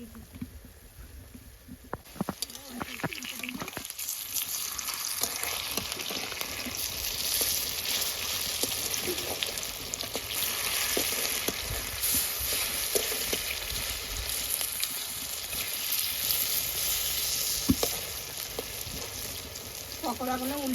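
Cabbage pakoras sizzle steadily in hot oil in a kadai while they are turned, with scattered clicks and scrapes over the constant hiss.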